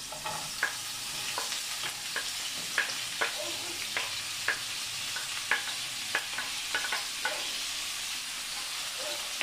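Onion frying in a pan with garlic and ají peppers for Dominican bacalao encebollado, a steady bright sizzle broken by repeated sharp clicks of a utensil stirring against the pan, with no talking.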